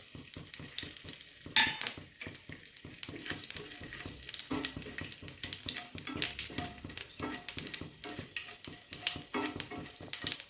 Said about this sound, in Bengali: দেখুন, আমার 5 ফোড়নটি প্রায় ভাজা ভাজা হয়ে এসছে।